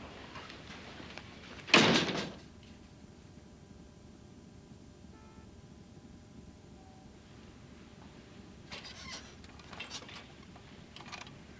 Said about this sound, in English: Close the door behind you, and don't slam it.